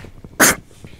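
One short, sharp sneeze bursts out close to the microphone, loud and sudden against a quiet background.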